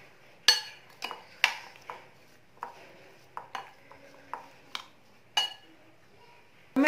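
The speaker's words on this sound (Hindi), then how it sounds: "इन तीनों चीजों को अच्छे से मिला देंगे सब्जियों के साथ।" A spoon stirring chili flakes, black pepper and chopped vegetables in a bowl, making a series of sharp, close clinks and taps at an uneven pace, with soft scraping between them.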